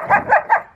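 A dog barks three times in quick succession during a training session, short sharp close-up woofs evenly spaced with no talk over them.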